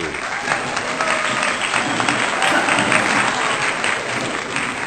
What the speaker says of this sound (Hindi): तो एक बार जोरदार तालियां श्री गजेंद्र सिंह पांगती जी के लिए